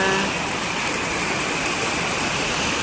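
Heavy rain pours steadily outdoors in Tagalag, Valenzuela during the first rain of May, a dense unbroken hiss that stays loud and even throughout with no talk over it.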